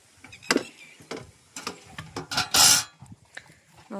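Water is drawn from a farm well into a bucket and can, with a series of scraping, rubbing and clanking mechanical sounds at irregular intervals and one longer rushing burst near the middle.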